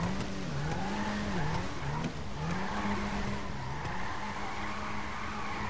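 A Nissan R34 GTR spins a donut in GTA 5, its engine droning steadily while tire squeal wavers continuously through the whole stretch, loud and close with no voices.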